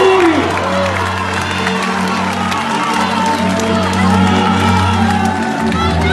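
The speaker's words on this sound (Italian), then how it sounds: "Un applauso a Matteo Salvini" A large crowd at a political rally for Matteo Salvini in Tortona, Italy, applauds and cheers loudly and continuously, with whoops rising above the clapping throughout.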